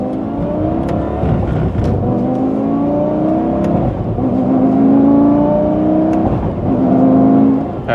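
Lamborghini Gallardo Superleggera engine pulling hard through the gears, its loud rising revs broken by several slow, jerky shifts over a sustained, close-up roar with no talking.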